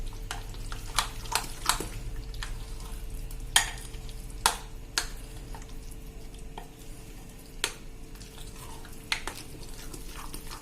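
Semolina bhajiya batter being beaten in a bowl, quiet soft swishing with a string of sharper knocks and clicks at irregular intervals, close and without speech.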